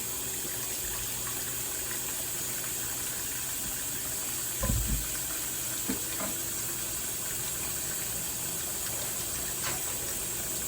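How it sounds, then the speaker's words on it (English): Cold water runs from a kitchen tap into a sink, a steady continuous hiss and rush that stays even throughout, with a couple of brief knocks partway through and no talking. "I'm just filling up my sink with cold water"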